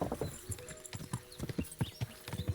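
Horse hooves clatter in a rapid galloping rhythm during a horse race in Kingdom Come Deliverance II, with game ambience around them and no clear talk.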